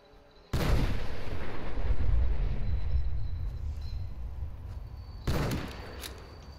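A gun fires in Fallout 4 with two loud, booming blasts about five seconds apart, each dropping into a long rumbling tail.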